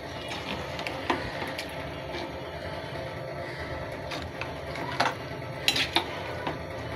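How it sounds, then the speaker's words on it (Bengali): Potatoes stirred in a cooking pot: a steady run of close scraping and rattling spoon-on-metal sounds with a few sharper clanks, no talking. "নাড়াচাড়া করে দিচ্ছি।"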